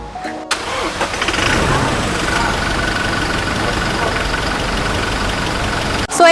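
A 2023 Toyota Hilux Revo 2.4 Zedition engine cranks and catches, then settles into a loud, steady idle close by, running continuously before cutting off abruptly.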